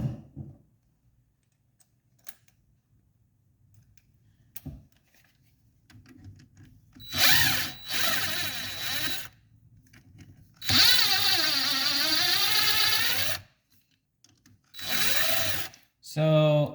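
Impact wrench removing bolts from a 1987 Honda TRX250R engine, several loud rattling bursts of a few seconds each with pauses between, close up.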